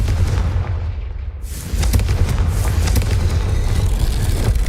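A Confringo fire spell explodes in the video game Hogwarts Legacy, a loud booming blast with a continuous rumbling, crackling roar that swells and holds steady.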